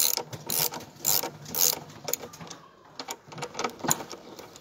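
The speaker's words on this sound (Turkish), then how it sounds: "Arkadaşlar lokma takımızda yavaş yavaş önce boşluğunu aldıralım." A socket wrench ratchet clicks in quick bursts while loosening and tightening the front brake and fork bolts of an RKS Blazer XR 50cc scooter, close and fairly quiet with short pauses between strokes.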